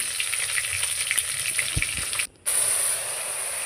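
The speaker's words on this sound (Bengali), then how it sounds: "এদিকে আমি মাছ ভেজে নিচ্ছি, আর আছে উচ্ছে, তো এই উচ্ছে কটাও আমি ভেজে নেব।" Fish and bitter gourd fry on a clay stove with a steady broadband sizzle and a few soft clinks, dropping out briefly for a moment before the hiss resumes.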